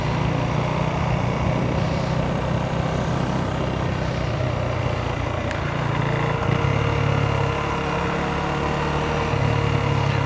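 A KTM Duke 390 motorcycle engine runs steadily while being ridden at normal pace, a continuous close engine drone with harmonic bands that shift slightly in pitch, mixed with road and wind noise and no talking.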